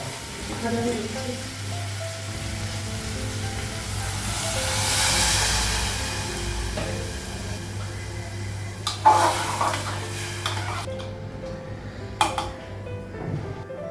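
Onions frying in a pan of oil in a home kitchen, a steady close hiss and sizzle with a low hum beneath and a couple of sharp clatters near the end.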